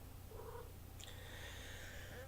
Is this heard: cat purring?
yes